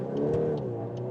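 A VW Golf R Black Edition facelift with all-wheel drive accelerates out of a corner, its engine droning steadily and close from inside the cabin, with a faint rise in pitch and no talk.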